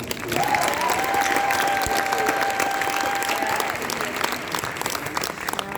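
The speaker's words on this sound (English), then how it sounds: "So one more round of applause for me" Audience applause at a breakthrough panel event, a steady, dense wash of clapping from a crowd that holds for several seconds, with a thin sustained tone running through the middle.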